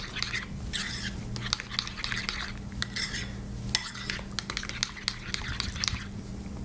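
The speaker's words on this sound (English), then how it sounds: "So get this mixed up. Make sure all that honey dissolves in there." Utensil clinking and stirring against a bowl while mixing a honey dressing for a Southern seven layer salad, quick close taps and scrapes in bursts over a low steady hum.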